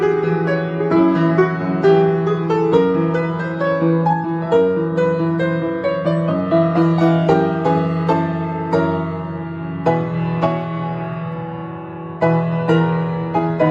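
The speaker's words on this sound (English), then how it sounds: "I've taken his Ax Motif, and as a way of showing that Turandot is now warming to this idea of love, I've transformed it in a Liebesruhe-esque sort of way" Orchestral music reworking the Ax Motif from Puccini's Turandot into a warm, lush love theme, with a sustained harmonic bed under a slowly rising melody, full and loud throughout.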